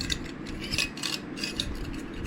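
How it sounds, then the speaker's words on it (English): A number 3 large screwdriver drives screws while hold bars are installed on a Tracker boat, giving soft, uneven ratchety clicks and scraping at close range with no talking. "That's the number 3 large screwdriver."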